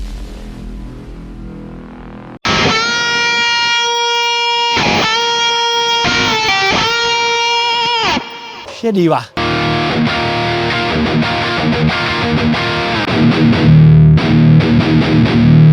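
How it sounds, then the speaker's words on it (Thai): Heavily distorted electric guitar chords through a Valeton GP5 effects pedal ring out loud and sustained, cutting in and out, then a gritty fuzzier tone takes over; a voice speaks briefly. "วันนี้ผมจะขอนำเสนอเสียงแตกในทุกรูปแบบ"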